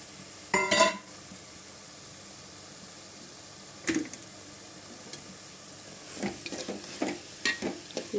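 Drumstick pieces go into a frying raw prawn curry with vakkaya, heard as a few brief clattering stirs and scrapes of a spoon in the pan over a faint low sizzle, with quiet gaps between them.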